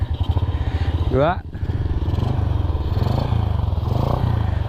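Honda Astrea Grand motorcycle fitted with a Jupiter carburetor idling close by, a steady low chugging putter that dips briefly, while someone speaks over it.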